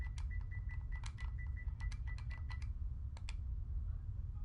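Quick, close keyboard typing on a computer during Elite Dangerous: a rapid run of crisp key clicks, a short pause, then a few final taps over a low steady hum.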